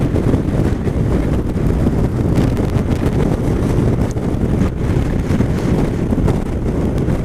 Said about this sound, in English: I need to be out of the wind now. I've had enough of it.